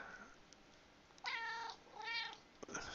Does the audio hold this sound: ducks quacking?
no